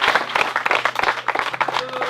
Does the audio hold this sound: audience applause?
yes